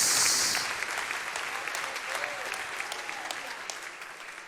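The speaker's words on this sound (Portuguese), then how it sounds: "Quem recebe esta palavra, aplauda o nome do Senhor" A church congregation applauding, dense sustained clapping that starts loud and gradually fades, with voices murmuring underneath.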